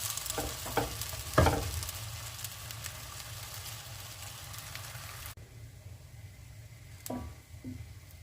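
Crepe batter cooks in a frying pan with a soft, steady sizzle, a couple of sharp scraping or tapping clicks early on, then a quieter hiss with a few light knocks.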